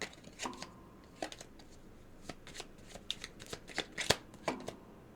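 Tarot cards shuffled and drawn from a deck, giving soft, irregular riffles and sharp flicks and slaps close by, quiet and without talk.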